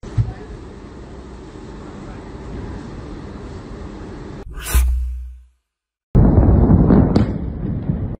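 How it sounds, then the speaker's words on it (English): Massive explosion at the Iranian port of Bandar Abbas: a steady roar of fire and rumble gives way to a sharp blast, brief silence, then loud continuing roar. "A strong explosion and fire occurred in the Iranian port city of Bandar Abbas on Saturday."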